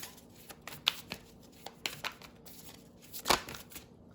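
Soft, close shuffling of a Moonology oracle card deck, with irregular riffles, taps and a card being pulled, quiet and without talk.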